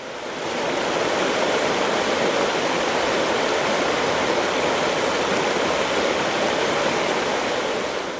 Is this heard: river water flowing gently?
yes